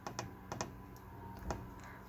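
Quiet clicks on a computer keyboard, a few scattered taps with short pauses between them over a faint background hum.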